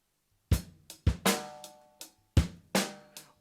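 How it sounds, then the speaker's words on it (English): Quiet drum kit pattern with deep bass drum thumps falling between crisp hi-hat hits in a steady, syncopated rhythm. "You're going to have to play the bass drum between the hi-hats"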